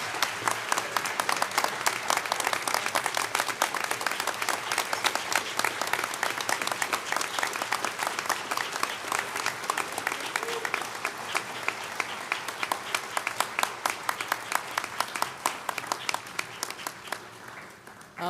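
A large crowd at a university presidential investiture gives President Maurice D. Edington a long, dense round of applause, a full, steady wash of clapping that keeps going for nearly twenty seconds and thins slightly toward the end.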